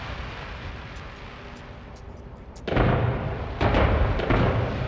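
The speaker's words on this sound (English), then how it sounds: "I'm not sure why we're shooting fireworks" Fireworks fired in a city-building video game, with a sudden loud burst about midway followed by a sustained crackling, booming roar and a second surge, preceded by softer rumbling.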